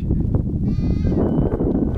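Goats on a farm give a single wavering bleat nearby, lasting about half a second, over a steady low rumble of background noise.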